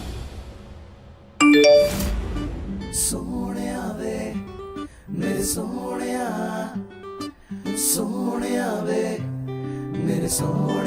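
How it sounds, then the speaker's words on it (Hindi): A single bright notification ding from a phone announcing a new message in a Hindi TV drama, sharp and loud, followed by swelling dramatic music. "सुनैना का मैसेज"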